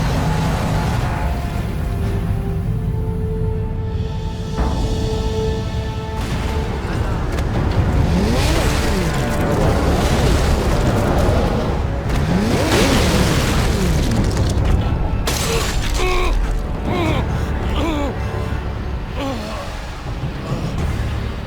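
An orbital strike in Warhammer Space Marine 2 detonates in a long, heavy barrage of roaring booms and rumbling blasts that fill the whole stretch with dense, loud, sustained destruction.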